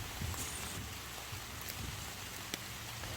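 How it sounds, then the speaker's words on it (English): Steady rain patters on the leafy canopy of a forest, a dense, even hiss of drops with a few sharper close taps, continuous and moderately loud with no voices. "the sound effect of the rain on the leaves is awesome"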